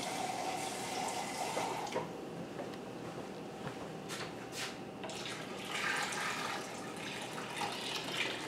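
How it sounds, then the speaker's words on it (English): Tap water runs steadily into a canning pot, filling it for a boiling-water bath to reprocess jelly, a continuous close hiss and splash with no pauses or voices. "Now I'm just going to finish filling up my canner and bring that up to a rolling boil"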